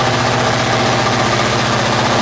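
A tractor engine runs at a steady, loud idle with a low, even rumble and vibration throughout, with no voices.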